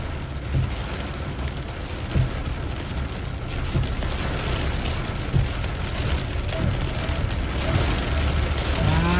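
Heavy storm rain pours steadily in Vientiane, Laos, a dense, loud, unbroken hiss of water on surfaces with scattered louder drops and no voices.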